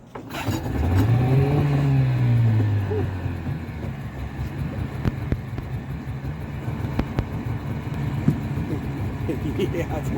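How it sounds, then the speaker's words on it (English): A boat motor cranks and catches, its pitch rising and falling in a brief rev before it settles into a steady, rumbling run with faint ticking, heard close. "So, we're gonna get this motor to start."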